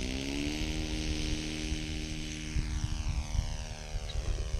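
A propeller engine on a small yellow sport plane in a flight simulator drones steadily and loudly, its pitch shifting slightly as it maneuvers, with wind rushing over the cabin.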